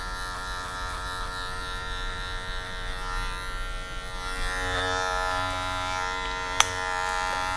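Electric hair clipper buzzing steadily and close while fading a haircut with a 1.5 guard, a continuous even hum with one brief click near the end and no talking.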